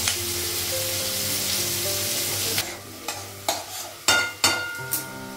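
Tomatoes frying in a pan, a dense sizzle that thins out after a few seconds, followed by a series of sharp spatula scrapes and knocks against the pan, close by.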